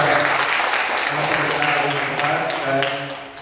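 Audience applause at an Indonesian gathering, a short burst of loud, dense clapping that tapers slightly toward the end.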